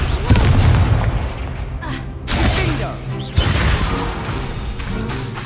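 In the Hogwarts Legacy video game, an Expulso spell sets off loud close booming blasts, two or three sharp explosions with rumbling tails amid game effects.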